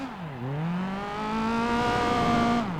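A car engine in Gran Turismo 4 drops through a gear change, then climbs steadily in pitch under acceleration before easing off near the end. It sounds clear and close, with no talk.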